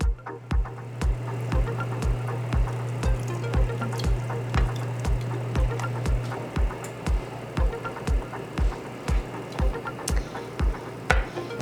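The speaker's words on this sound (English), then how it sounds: "Now we'll add our milk." Milk poured into a thickening mac and cheese sauce, a steady liquid trickle over a rhythmic series of regular soft thumps from stirring, close and without talk.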